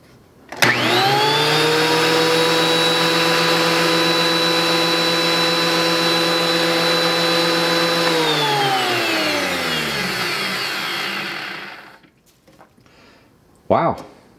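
DeWalt power tool roaring at full speed, a loud steady high-pitched motor whine that holds for several seconds before winding down and fading out, followed by a brief clatter near the end.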